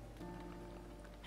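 Steady rainfall patters on surfaces in the video game Zelda: Breath of the Wild, a soft continuous hiss of drops at a low level over a faint background of game tones, with no talking.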